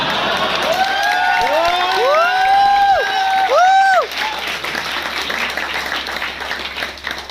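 A crowd at a motivational talk applauds loudly in a dense wash of clapping, with high whistles and cheers rising over it for a few seconds before the noise settles into a softer crowd murmur.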